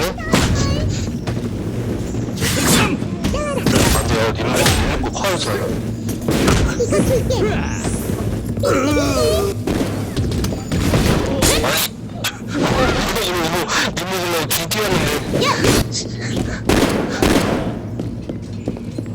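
Rapid, booming game explosions and gunfire crackle almost without pause, loud and dense, while people talk excitedly over them.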